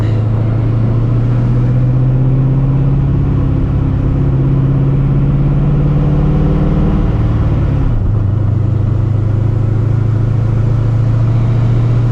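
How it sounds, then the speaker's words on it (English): A supercharged 2-valve V8 in a Ford Mustang GT idles close by with a deep, steady rumbling throb; the pitch dips and stutters briefly before settling back into its lumpy, choppy idle. "I'm gonna miss that 2-valve truck motor chop for sure."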